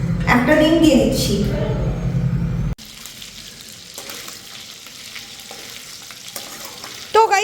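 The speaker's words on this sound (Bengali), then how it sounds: "আমি কর্নফ্লাওয়ার ছাড়াই চিকেন ফ্রাই করবো" Chicken pieces coated with egg, without cornflour, sizzle and crackle in a frying pan as they are stirred. A voice talks loudly over the first few seconds, then the frying continues alone at a softer level.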